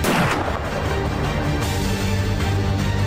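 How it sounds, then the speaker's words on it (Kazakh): Heavy gunfire roars nonstop, loud and close, a dense barrage of shots blurring together with no pauses and no voices. "Атыс дауысын естіген жағдайда ол бағытта жүруді доғарып, қауіпсіз аймаққа қарай қашыңыз"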